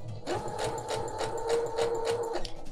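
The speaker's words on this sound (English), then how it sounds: "Next, I am going to sew the darts and the tucks." A sewing machine stitches darts on a 1940s keyhole blouse, a steady close whirring run of rapid needle beats lasting about two seconds, with no speech over it.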